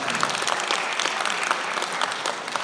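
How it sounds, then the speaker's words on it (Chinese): An audience at a campus idol meet-and-greet applauds the group SHY48, a dense, steady clapping that fills the whole stretch. "请给我一点掌声，请给 SHY48 一点掌声。"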